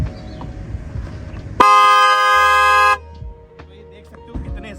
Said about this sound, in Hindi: ये जो हॉर्न है ये गिव अवे के लिए है, आप लोग ले सकते हो।